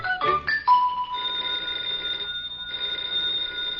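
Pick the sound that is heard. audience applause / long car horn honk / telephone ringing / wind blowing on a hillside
telephone ringing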